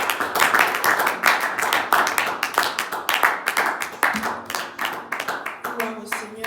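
A church congregation claps to acclaim the Lord during a Sunday service, the dense rhythmic applause filling the room steadily from start to finish, with voices murmuring underneath.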